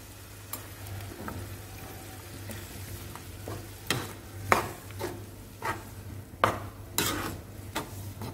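A coconut, fennel and poppy seed paste goes into a sizzling goat lung gravy, with a gentle frying hiss broken by intermittent clinks and scrapes of a spoon stirring the pan.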